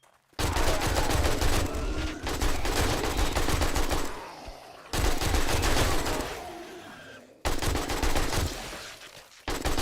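Bursts of automatic AK rifle fire from the video game 7 Days to Die, loud and close, coming in three long sustained volleys separated by brief pauses, with no talking.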